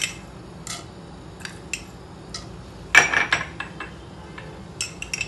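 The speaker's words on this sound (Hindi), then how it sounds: "इसके बाद इसमें थोड़ा सा तड़का के लिए ये चना दाल डाल रहे हैं।" Chana dal poured into hot oil in a pan for tempering, heard as a sudden rattling burst with a few light metallic clinks of the pan before and after, close and fairly quiet.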